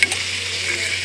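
Sliced onions frying slowly in a pan over low heat, a soft continuous sizzle with a faint stir at the start, close and steady, no voices.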